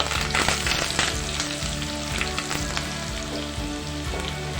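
Curry leaves hit hot oil in a pan for an aloo gobi masala, giving a loud, steady crackling sizzle with sharp pops throughout, close up and with no talking.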